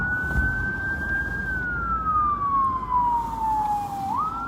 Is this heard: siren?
yes